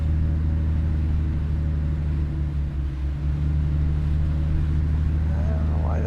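A Mack Cruiseliner truck engine in American Truck Simulator drones at steady low revs, a loud continuous deep rumble with a slight dip midway, while a voice talks over it at times.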